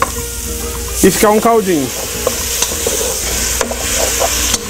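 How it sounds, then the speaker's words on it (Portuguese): Ingredients for feijoada frying in a pan with a little water added, a steady loud sizzle with scraping stirs of a utensil against the pan bottom, a person speaking briefly over it. "Agora a gente frita todos os ingredientes até ficar bem dourados, para depois adicionar o feijão."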